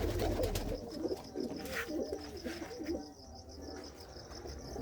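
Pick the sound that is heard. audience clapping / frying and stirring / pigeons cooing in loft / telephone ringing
pigeons cooing in loft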